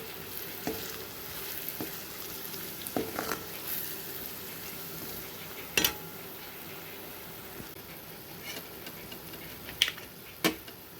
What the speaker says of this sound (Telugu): చూసారు ఫ్రెండ్స్ ఏ విధంగా ఫ్రై అవుతుందో.